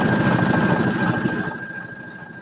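A sewing machine runs steadily through a decorative stitch along a marked line, its motor hum close and continuous, with a faint high whine throughout and the sound easing slightly toward the end.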